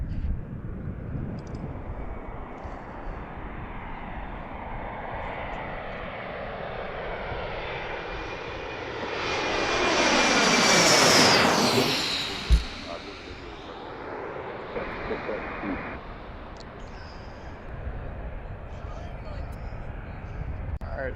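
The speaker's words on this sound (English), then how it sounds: "Go to our next arrival. 54, runway 1 hour left" An Embraer E175 jet arriving on the runway at Washington's DCA airport, its engine roar swelling as it approaches, peaking loudly mid-clip and fading away, with a sharp thump near the peak over steady outdoor background noise.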